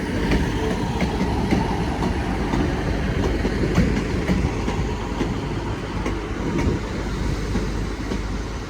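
A Class 150 diesel multiple unit, 150 215, rolls slowly into a siding at Sheffield station, a loud steady rumble of wheels and engine with rhythmic clicks over rail joints and a faint squeal.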